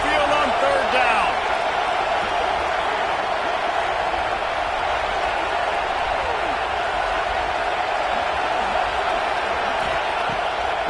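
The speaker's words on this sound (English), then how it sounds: "The Tide crowd roaring noise down onto Saban Field on 3rd down." A dense, steady roar from a packed college football stadium crowd in a video game, heard at Alabama's Saban Field on third down, sustained and loud throughout without pause.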